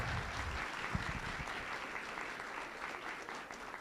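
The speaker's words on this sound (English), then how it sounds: "Joey and Ellie, let's give them a round of applause." An audience at a school board of education meeting applauds two young students, a fairly soft, even patter of many hands that carries on steadily without speech.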